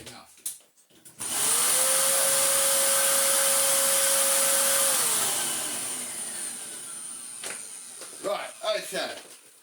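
A Hoover Blaze TH71/BL02001 vacuum cleaner with a melted brushroll is switched on, its motor whining up to a loud steady drone with a high tone, then slowing and fading as it is switched off; voices are heard around it.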